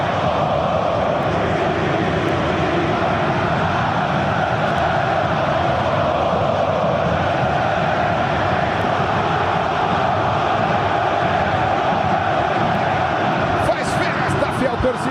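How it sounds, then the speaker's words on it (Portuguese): A Corinthians crowd shouts and cheers in a packed stadium. The roar is steady, loud and dense and runs on without a break. "a torcida do Corinthians sabe que é necessário gritar, que é necessário incentivar"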